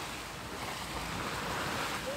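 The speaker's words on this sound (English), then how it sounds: "I'm not sure how big the waves are, but we've got quite a lot of waves." Ocean waves wash against a sailing boat under way, a steady broadband rush of water and wind that holds constant throughout without distinct breaks.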